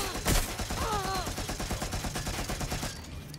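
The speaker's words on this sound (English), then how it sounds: "Incoming fire!" Rapid gunfire rattles in Watch Dogs: Legion, a sustained burst of shots at moderate volume with a voice briefly heard among them before the firing fades out.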